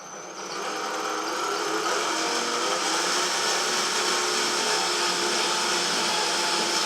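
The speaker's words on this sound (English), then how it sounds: "just let the drill work by itself" A loud, steady power drill motor whine holds continuously after a short ramp-up, drilling without pause into the hollow part of a wall.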